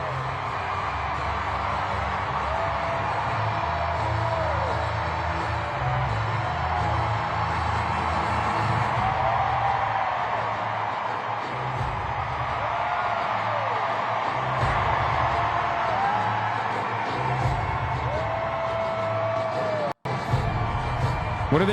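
Large political rally crowd for Kamala Harris and Tim Walz cheering and whooping in a sustained, loud roar, with talk over it throughout.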